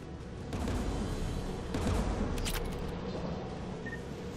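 Anti-aircraft guns fire in Mass Effect 3, a rumbling series of heavy, booming shots rolling on through a battle din at moderate distance.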